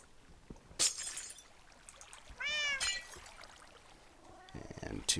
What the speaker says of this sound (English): Meow. Yeah, they're loud little buggers.